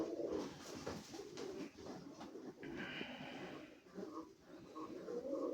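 Female Yeysk pigeons coo softly and repeatedly nearby, low throaty burbling calls overlapping with light rustling and a faint higher chirp.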